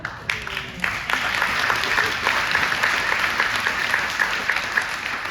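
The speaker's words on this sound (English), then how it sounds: "I knew that would be an applause line" A crowd at a town hall meeting on a data center in Beaver Dam, Wisconsin breaks into loud, sustained applause, a dense even roar of clapping hands that holds steady for several seconds.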